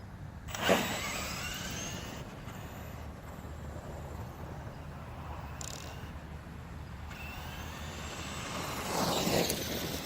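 Traxxas E-Maxx RC truck with a Turnigy Trackstar 120A ESC creeping at low speed outdoors, a faint electric motor whine rising and falling over wind rumble, with brief louder surges near the start and end.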